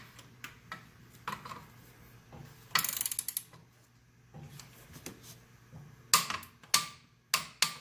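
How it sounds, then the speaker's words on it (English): Ratchet wrench tightening and torquing a bolt on BMW R1250RT motorcycle engine guard bars to 17 foot-pounds, heard as scattered close clicks and ratcheting ticks with a few sharper metallic snaps near the end, no talk. "we're going to tighten that up and then torque to 17 foot-pounds or 22 Newton meters."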